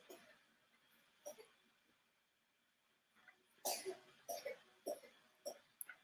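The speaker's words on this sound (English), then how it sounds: "coughing from the other room" Someone coughs in another room, heard as faint, muffled bursts, a few scattered early and then a quicker cluster of coughs toward the end over a quiet room background.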